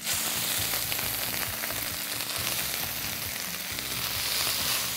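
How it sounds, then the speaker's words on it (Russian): Steady, close sizzling of rice frying in hot oil in a pan, a continuous crackle with occasional stirring scrapes, no voices. "Я сейчас добавлю в него на сковородку рис"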